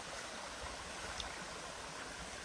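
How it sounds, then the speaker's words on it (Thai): A forest stream flows steadily with a soft, even wash of running water, faint and continuous with no voices. "ดูทุกคนน้ำไหล ก็คือน้ำเริ่มน้อยลงแล้วนะ"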